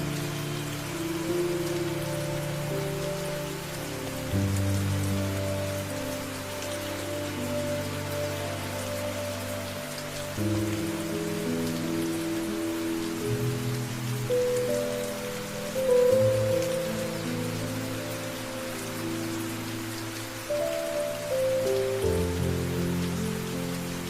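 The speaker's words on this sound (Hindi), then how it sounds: "नीचे उतरते ही बारिश उसका स्वागत करती है। आसमान खुला हुआ है और बूंदें बिना रुके गिर रही" Steady rain falls without pause under an open sky, a soft, even hiss that runs beneath sustained, slowly shifting musical tones.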